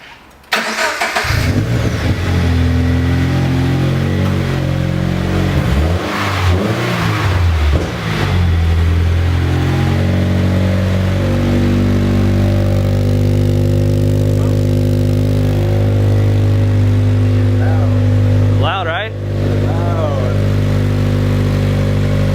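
A Subaru BRZ / Scion FR-S / Toyota GT86 engine with spacers creating an exhaust leak starts up, revs briefly, then settles into a loud, steady idle with a raspy exhaust tone; a short voice cuts in near the end.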